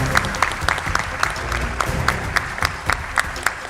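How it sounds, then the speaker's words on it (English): Audience applause for the winning team at the Indian Army Quiz national finale, steady dense clapping from a crowd close by, lasting a few seconds. "Applause should be louder than ever for the winners out here"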